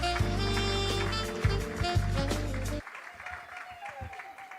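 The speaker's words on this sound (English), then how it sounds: "Can we please give her another round of applause?" At the Temvelo Awards live broadcast, a dense burst of audience applause sits over music and then cuts off abruptly, leaving a quieter room with scattered claps and a faint voice.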